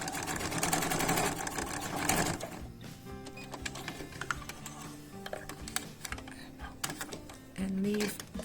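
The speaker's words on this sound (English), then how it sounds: "Now that we've reached the fourth side of the quilt, we're going to sew just a little bit" A sewing machine stitches binding along the fourth side of a quilt, its rapid mechanical whirring steady for the first couple of seconds and then breaking into quieter, intermittent bursts and clicks.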